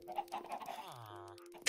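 Chickens clucking in the video game Minecraft, several short bird calls in a quick burst followed by a longer drawn-out squawk, close and fairly loud with a steady background tone.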